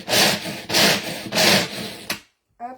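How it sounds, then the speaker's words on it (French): A Tornado chopper coarsely chopping almonds and hazelnuts, three loud rasping, grinding pulses in a steady rhythm, then a sharp clack, silence and a brief short sound at the end, close and alone. "Je vais faire un peu de bruit du coup parce que je vais mixer."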